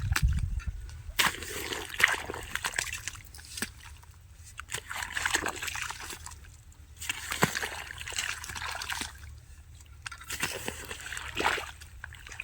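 Irrigation water flows and splashes into a channel in a mango orchard, a continuous sloshing trickle with louder gushes that rise and fall.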